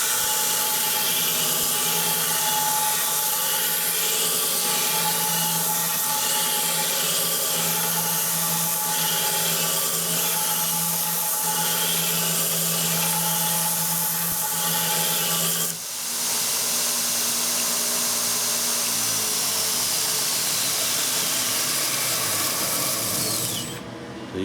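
A belt grinder running a 60-grit belt at 3600 RPM grinds material with a loud, steady abrasive hiss and a humming whine. At about sixteen seconds the grinding cuts off and the motor winds down to quiet.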